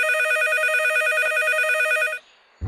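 A cartoon telephone rings loudly with a bright, electronic trill for about two seconds. It then cuts off, and a short low thud follows.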